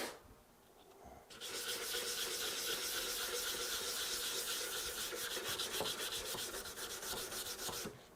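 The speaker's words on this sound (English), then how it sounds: "Mostly all this sanding was done by hand." Close, steady hand sanding of antique wooden furniture legs, a rhythmic scratchy hiss of repeated sandpaper strokes after a brief quiet start.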